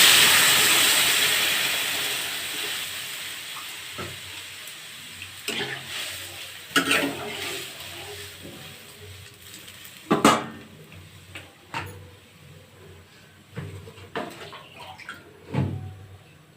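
Water goes into a hot cooking pan while shol fish with new potatoes and eggplant is being made, opening with a loud hissing rush that fades over about two seconds, followed by sparse clinks and scraping.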